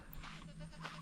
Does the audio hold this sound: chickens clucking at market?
no